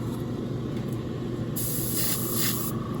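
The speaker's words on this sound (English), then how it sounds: "I do love spraying inks though. Inks just go on so clean" An airbrush sprays ink paint onto a Mandalorian miniature with a steady, close hiss that swells briefly louder near the end.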